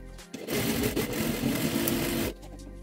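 A sewing machine stitching the strap ends of a child's backpack, a steady close whirring run of about two seconds that starts and stops abruptly, with no talking.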